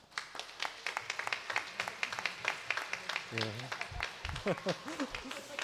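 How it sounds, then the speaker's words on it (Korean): A church congregation claps steadily and evenly at moderate distance during a Sunday service welcome, with voices and a brief tonal sound rising over the applause near the end. "우리 일어나서 인사하실 때 우리 박수로 환영하겠습니다"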